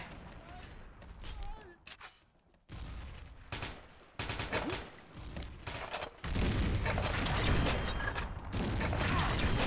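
Rapid gunfire in the shooter game XSHOT, bursts of sharp automatic shots in clusters with brief pauses, growing denser and louder toward the end, with a player talking excitedly over it.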